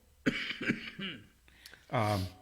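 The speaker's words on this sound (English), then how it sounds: "I can't seem to quit coughing." Several hoarse coughs in quick succession, then a pause and a deeper throaty cough, close up and fairly loud.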